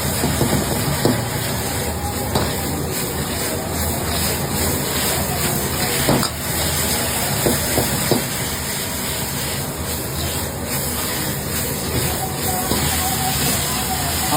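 Chicken being tossed in gravy in a pan over a high gas flame: a loud, continuous sizzle and hiss throughout, close, with occasional scraping clatter of the utensil.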